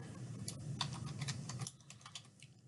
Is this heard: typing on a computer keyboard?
yes